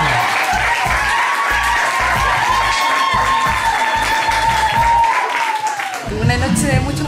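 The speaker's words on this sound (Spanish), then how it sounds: "Fuerte el aplauso para Gada Canán." Audience applause at an academy's eighth anniversary celebration, a dense sustained clapping under an amplified voice and music-like tones, swelling briefly near the end.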